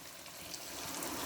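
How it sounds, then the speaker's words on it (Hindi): Water poured into a pot of browned meat and potatoes for aloo gosht, a brief close, steady splashing pour with no talk. "अब मैं इसमें पानी ऐड करने लगी हूँ"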